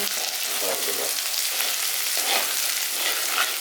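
Onions and curry leaves sizzle in a pan for a Kerala chicken dish, a steady close hiss of frying with soft stirring scrapes mixed in.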